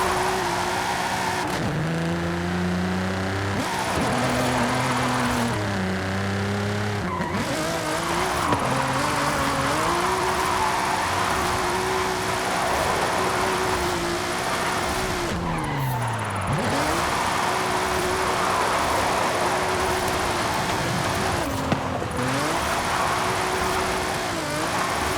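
Nissan GT-R drift car with a VR38 DET engine in Forza Horizon 5, loud sustained engine revving that rises and falls through gear changes, with long tire squeals as it slides.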